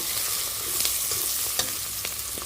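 Large-cut carrots sizzle steadily in hot oil in a pan for mango khichuri, with a few soft stirring clicks breaking through the constant close frying hiss.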